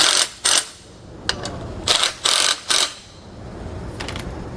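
Ratcheting socket wrench, 9/16 socket, snugging the short kit bolts into the top of a SumoSprings Maxim custom helper spring bag on a 2018 Tiffin Allegro motorhome; several short bursts of clicking with pauses between, close up, no talk.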